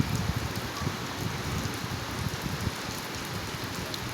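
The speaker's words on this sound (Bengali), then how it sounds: "হঠাৎ করে রৌদ্রোজ্জ্বল দিনটা বৃষ্টিমুখর হয়ে উঠল।" A sudden heavy downpour drums on a rooftop after a sunny, hot day; a continuous, fairly quiet hiss of falling drops with a slightly grainy patter, no voices.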